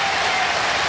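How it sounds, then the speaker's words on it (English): Arena crowd applauding steadily for volleyball player Nikki Taylor at a Hawaii versus Oregon State women's match, a dense continuous wash of clapping filling the whole moment. "Nikki Taylor gets a big round of applause"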